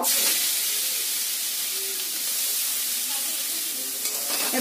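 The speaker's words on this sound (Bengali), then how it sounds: "ভালো করে ভেজে নেব।" Carrots fry in a pan with a steady, loud sizzle and hiss, while a utensil scrapes and stirs through them now and then.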